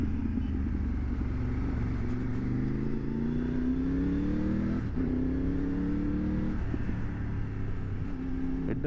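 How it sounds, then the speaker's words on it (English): Triumph Tiger 900 Rally Pro inline three-cylinder motorcycle exhaust, loud and close, rising and falling through several rev sweeps and gear changes with a steady engine drone throughout, no talking. "it's a very beautiful sounding exhaust, and even in the stock settings you will really love the induction whistle on this inline 3 cylinder"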